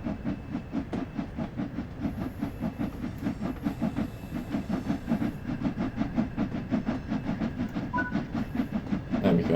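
Steam locomotive in the Spirit of Steam train simulator, hauling a train on the London Euston to Liverpool Lime Street run, chuffing in a steady rapid rhythm with hiss and rumbling wheels, loud and continuous with no talk.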